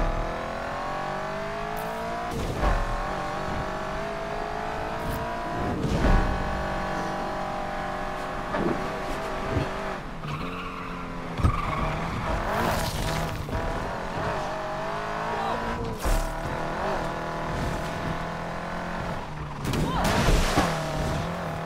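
A race car speeding in the video game Need for Speed Unbound, engine revving and shifting with tire squeals and skids, steady and close throughout, with some talk over it.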